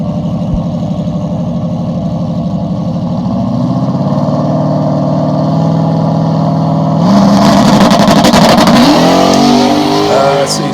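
A car engine with a rear-mounted turbo drones and burbles steadily, then surges louder into harsh, crackling revving on a two-step launch, loud and close throughout.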